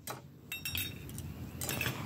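A spoon clinks and scrapes against a pan, with a few light metallic taps and a soft wet stir, as cornflour slurry is mixed into cooked vegetables.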